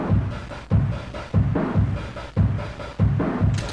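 Bit-crushed acoustic drum kit playing an old school hip hop beat, with punchy kicks and crunchy snare hits repeating in a steady, loud groove with no voices.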